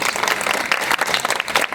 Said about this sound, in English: Could you please give these guys a round of applause?